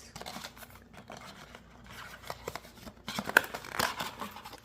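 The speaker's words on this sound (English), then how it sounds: "with the sticker removed, I can open up a little" A small cardboard box holding a collectible doll is opened up close, with soft scraping, crinkling and light tapping of the packaging, fairly quiet throughout.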